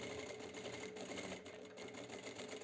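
Sewing machine stitching a lined midi dress with shirring elastic, sewn from the lining side, a steady continuous whirring hum with little change in rhythm, faint but alone.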